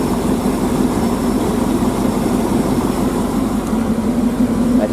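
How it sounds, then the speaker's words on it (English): A GMC Yukon engine idling with a suspected slight lifter tap, a loud, close, steady low rumble with a faint fast ticking texture running under it and no talk. "does sound like I might have a slight, I don't know if that's a lifter tap"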